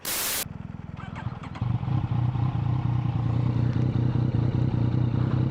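A Yamaha MT-09 with an Akrapovic exhaust rumbles loud and close, rising from a clattering idle into a deep, steady engine drone after a short sharp burst of noise.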